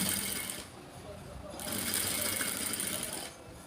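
A sewing machine stitches blouse fabric in two bursts of fast, rattling mechanical whir, close and fairly loud, separated by a brief pause.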